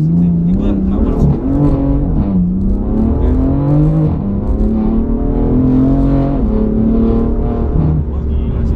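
BMW M4 with a Stage 2 tune and full Akrapovic exhaust accelerates hard, a loud, close engine note climbing steadily in pitch and dropping briefly at a quick gear change before climbing again.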